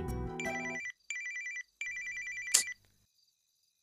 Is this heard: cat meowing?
no